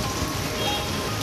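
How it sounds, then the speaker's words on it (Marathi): Light unseasonal rain showers in Pandharpur patter in a steady, even hiss of drops hitting surfaces, close and continuous. "पंढरपूरमध्ये पावसाच्या हलक्या सरी कोसळल्या."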